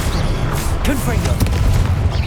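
A Confringo blasting spell explodes in Hogwarts Legacy with dense, rumbling booms that run through the whole stretch, while a voice cries out over the blasts.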